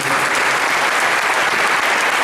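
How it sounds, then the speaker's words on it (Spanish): Loud, dense applause from a seminar audience closing a session on attack construction in formation, steady clapping filling the whole stretch with no voices over it. "Por favor, un muy fuerte aplauso."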